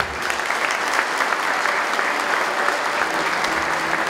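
Sustained audience applause at a school graduation ceremony, steady and dense from many hands, filling the hall evenly throughout with no speech over it.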